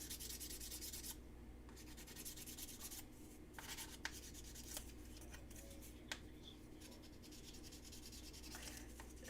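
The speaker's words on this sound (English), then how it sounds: "My favorite sanding tool is sandpaper wrapped around a tongue depressor." Quiet, close rubbing of sandpaper wrapped around a tongue depressor in short, steady strokes with a few soft taps.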